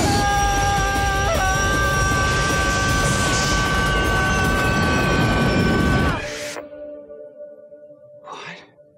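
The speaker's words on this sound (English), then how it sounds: "So Nick is walking Slade through landing the plane." Airplane engines drone during a landing scene from the B-movie Turbulence 3: Heavy Metal, a loud, steady whining roar that cuts off abruptly about two-thirds through, leaving a faint hum and a brief soft noise.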